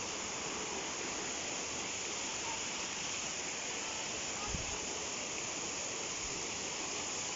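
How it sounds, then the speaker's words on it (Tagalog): Sta. Lucia Falls pours in a steady, dense rush of falling water, a continuous broadband roar with no break, heard close up with no voices over it. "Parang ito na yata yung last falls or meron pa dun sa dulo."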